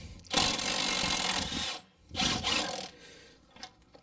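A ratchet wrench loosens the brake caliper bolts on a car during a brake pad and rotor replacement, with two bursts of fast, close mechanical clicking separated by a short pause.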